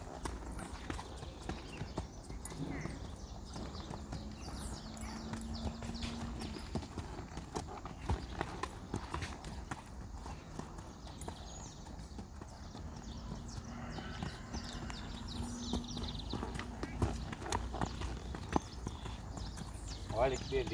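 Hooves of a horse clip-clop steadily as it is ridden in circles during schooling work on a horse with a hard mouth, a continuous rhythmic beat at moderate distance with a rider's voice talking over it.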